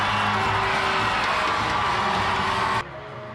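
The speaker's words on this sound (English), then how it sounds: "And listen to the crowd here at SaskTel Center." A loud hockey crowd cheers and whoops inside SaskTel Centre after a goal, a sustained roar that cuts off abruptly near the end, leaving a quieter arena murmur.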